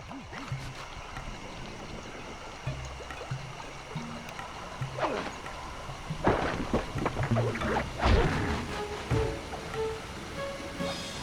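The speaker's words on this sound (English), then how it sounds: "there should be a hidden passage into the temple behind that waterfall" Rushing water from a waterfall in the stealth game Sly Cooper 2, a steady broadband roar throughout with game sounds and short noises layered on top, no talking.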